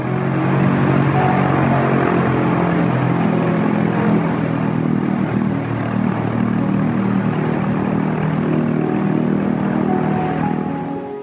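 A 1944 tail-dragger propeller plane flies loops near a small airport, its engine a steady, loud droning roar holding throughout, with no talk over it.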